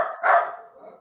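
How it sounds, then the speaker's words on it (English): A dog barks once, then a second louder bark that trails off, set off by a doorbell and heard fairly close with nobody talking. "so y'all might hear my dog barking in the background going banana."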